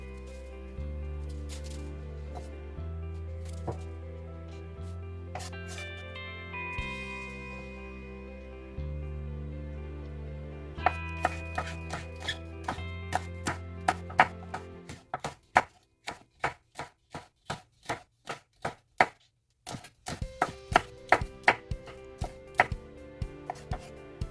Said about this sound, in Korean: 느끼함을 잡아줄 청양고추는 반을 갈라 씨를 빼시고요. 채 썰어줍니다.